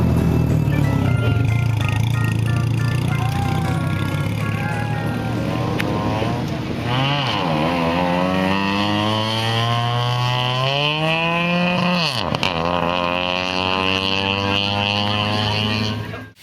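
Engine of a $500 Lemons racing Cybertruck build, aftermarket air filter only, started and revved in gear with the clutch held halfway out, loud and continuous with rising and falling pitch sweeps throughout.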